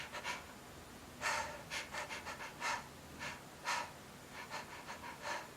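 A voice imitates a newborn baby's rapid breathing, a quick series of short, airy pants and breaths in an irregular rhythm, close up and soft, with no talking.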